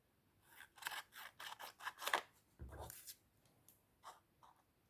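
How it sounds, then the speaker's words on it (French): Scissors cutting paper while covering an advent calendar, a close, quiet series of short snips and rustles in an irregular rhythm, with no talking. "Je vais recouper avec les ciseaux."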